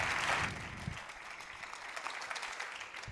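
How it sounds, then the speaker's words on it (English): Applause from an audience at a Night to Honor Israel event, faint and distant, starting with a brief swell then settling into a steady patter of claps. "Let's give them a round of applause."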